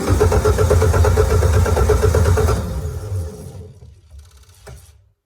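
A Mitsubishi Montero Sport 6G74 V6 engine, freshly back from a timing service, cranks with a loud rhythmic churning from the starter for about two and a half seconds, then winds down and fades out.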